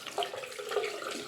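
Tap water runs briefly and softly close by while shaving soap is lathered, a short steady trickle with no talking.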